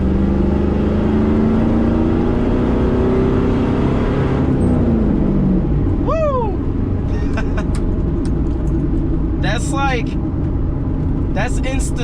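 A car fitted with new BMR rear lower control arms and panhard bar sends out a loud, steady engine roar under hard acceleration, rising in pitch, then tire chirps and squeals cut in over the drone.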